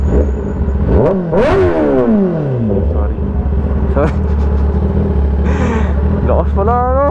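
A 2021 Kawasaki ZX10R superbike revs sharply at close range, its engine pitch sweeping up and falling back in a few quick bursts over a steady low rumble, with people talking nearby.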